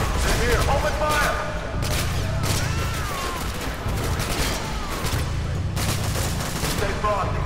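Dense bursts of rapid automatic gunfire during a door breach in Call of Duty: Modern Warfare 2, loud and continuous with sharp peaks throughout, while squad voices talk over the shooting.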